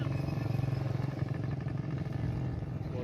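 A dirt bike ridden nearby, its engine droning steadily and loud with a rapid buzzing pulse throughout, no talk over it.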